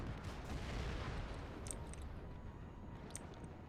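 Distant artillery-style gunfire from 85mm guns shooting at tanks in the real-time strategy game WARNO, a dense continuous rumble of booms with a few sharper high cracks near the end.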